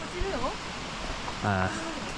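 A sizable mountain waterfall near Osaka gives a steady, even rushing roar in the background while a person talks over it briefly.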